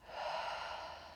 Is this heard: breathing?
yes